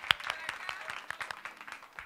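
A small audience at a festival workshop claps briefly and faintly, with scattered separate hand claps rather than a full roar, thinning out over about two seconds.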